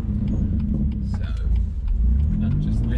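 Exhaust note of a BMW M2 Competition at about 20% throttle in second gear on a road drive, a steady deep rumble that stays loud and close throughout, with someone talking over it.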